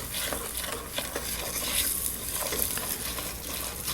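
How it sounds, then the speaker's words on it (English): Rice sautéing in ghee in an Indian kitchen, with a steady close sizzle and frying hiss that runs through the whole stretch, broken by soft stirring scrapes and no talking. "Now let's add our rice. And we're going to saute our rice"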